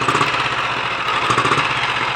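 Pre-war Ariel 350 motorcycle engine running while smoking from the exhausts, a close, loud, steady rapid single-cylinder chugging with no talk over it.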